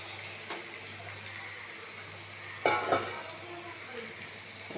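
Egg curry frying in a pan gives a soft, steady sizzle at low volume, broken by a couple of brief clatters near the middle.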